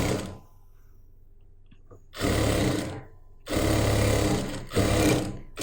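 A sewing machine stitching a churidar bottom runs in three loud, close bursts of whirring stitching, separated by brief quiet pauses.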